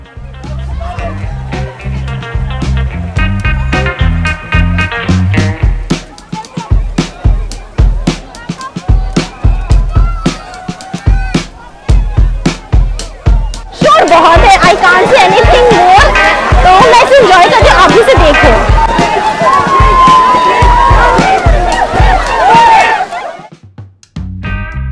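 Crowd at Bhushi Dam in Lonavala during the monsoon, a loud, dense babble of many voices mixed with music and rhythmic beats, swelling into a thick roar of chatter midway before dropping at the end.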